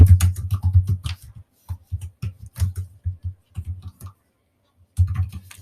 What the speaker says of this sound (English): I'm just kind of randomly typing something here.